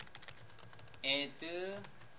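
Soft, quick keyboard clicks come from someone typing on a computer keyboard, close but faint. A short burst of voice cuts in partway through.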